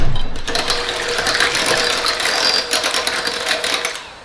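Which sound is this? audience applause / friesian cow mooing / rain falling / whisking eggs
whisking eggs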